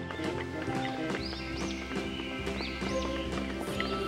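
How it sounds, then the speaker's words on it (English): A horse whinnies several times over steady clip-clop hoofbeats, set against a continuous musical backing in a children's learning song. "H for horse."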